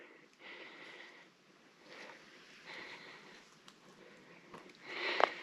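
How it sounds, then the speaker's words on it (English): Black bear sniffing the air outdoors near a waterfall trail, with soft repeated breathy sniffs, faint and at a distance, ending in a louder close rush of air. "You see him right there sniffing the air?"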